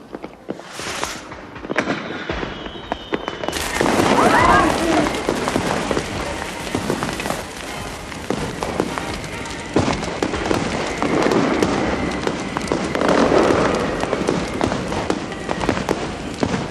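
Fireworks burst outdoors at an evening gathering at a seaside house, a steady crackling barrage of pops and thuds with a few louder booms, continuing throughout with faint voices underneath.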